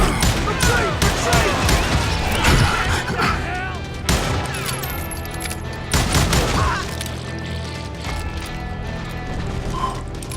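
Western-style gunfire and quick mechanical reloading clicks from the video game Call of Juarez Gunslinger, with sharp shot bursts near 0.5–2.5, 4 and 6 seconds amid clattering mechanisms, under someone talking.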